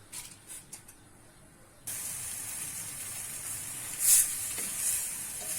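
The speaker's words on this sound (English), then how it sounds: "frying it just for 2 minutes." A sudden steady hiss starts up and continues as chicken hits hot oil in a pot, with a brief sharper sizzle partway through.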